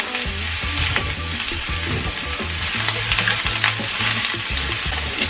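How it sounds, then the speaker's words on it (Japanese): Onions sizzling in olive oil in a frying pan, a steady loud crackle with stirring scrapes running continuously. "フライパンにオリーブオイル適量入れて、で玉ねぎから炒めていきます"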